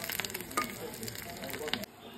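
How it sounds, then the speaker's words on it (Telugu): Mustard seeds, cumin, garlic, curry leaves and dried red chilies tempering in hot oil, a steady close sizzle with crackling pops and spatters throughout, ending in a quieter hiss. "ఇప్పుడు దీనికి మనం పోపు వేసేద్దాం"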